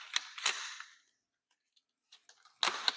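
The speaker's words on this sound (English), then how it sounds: "we're going to charge our weapon system." Charging handle of an ARID AUG rifle being worked: a pair of sharp metallic clacks, a second of near silence with faint small clicks, then another loud close snap of the bolt, heard alone at close range.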